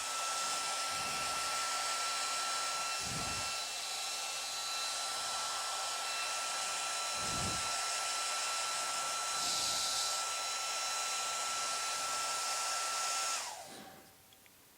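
A handheld hair dryer blows a steady, loud whooshing stream over a fabric appliqué for about thirteen seconds, with faint thumps underneath, before cutting off and winding down.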